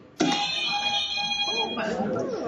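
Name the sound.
game show buzzer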